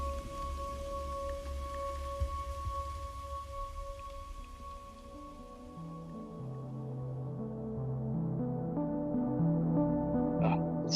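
Rain falls steadily as part of a music track, a soft continuous patter blended with sustained tones and low instrumental layers that swell toward the end, with no voices.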